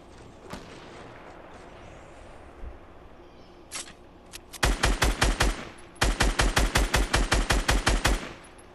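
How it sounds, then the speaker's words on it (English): Fortnite gunfire rips through in two rapid automatic bursts of sharp, loud shots, with a few scattered single cracks before them over quiet in-game ambience. "Just shooting randomly."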